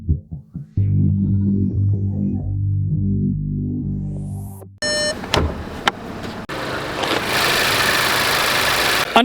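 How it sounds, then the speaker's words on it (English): A 2026 VW GLI's turbo 2-liter four-cylinder runs with a steady low hum that fades out, followed by sharp clicks and a broader rushing mechanical noise. "Under the hood is a turbo 2-liter 4-cylinder that goes through a 6-speed manual"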